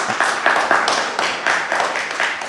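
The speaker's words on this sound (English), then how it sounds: "A round of applause for Dr. Yekemi." Audience applause for a speaker at a business event, close, lively clapping from a modest crowd with distinct individual claps pulsing through, brief and fairly loud.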